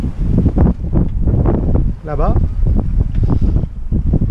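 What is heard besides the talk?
wind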